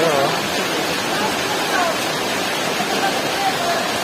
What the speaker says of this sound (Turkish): Buranın yağmuru ıslattırıyor.